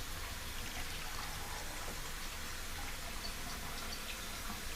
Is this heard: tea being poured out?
yes